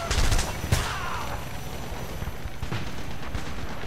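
Gunfire in the first-person shooter Homefront crackles in a loud burst at the start, then sharp scattered shots ring out over a continuous rumbling battle din, with a voice briefly heard.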